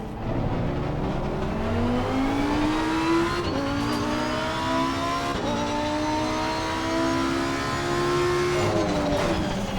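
Honda race car engine in Assetto Corsa Competizione, a loud, close engine that climbs in pitch through several upshifts, with a steady revving drone in between.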